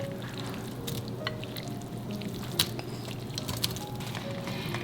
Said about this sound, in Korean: 살짝 볶아주면 이 나물이 더 고소하게 되면서도 부드럽게 됩니다.